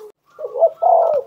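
A pair of caged spotted doves (tekukur) cooing nearby: a short, soft phrase of low, rolling coos, clear and alone in a quiet setting.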